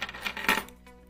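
Metal keys on a keychain jingle close to the microphone, a short burst of bright clinking and rattling that peaks sharply once, then fades out within about a second.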